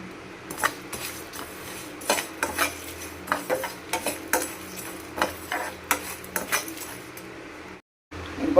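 Whole cumin, fennel, coriander seeds, black peppercorns, cinnamon and dried red chillies dry-roast in a kadai for chicken masala, a spatula scraping and clicking against the pan in irregular taps, with a brief silence near the end.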